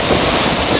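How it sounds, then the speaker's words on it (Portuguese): Sea surf rolling onto the beach at Cidreira, a steady broad wash of breaking waves with some wind buffeting the microphone, heard alone for under a second. "eu tava filmando o mar"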